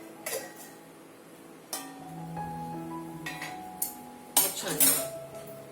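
A metal lid is lifted off a pot of herbal kadha and a ladle clinks against the vessel as the drink is strained, producing scattered sharp metallic clinks and ringing tones.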